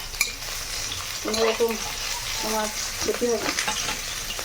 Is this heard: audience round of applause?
no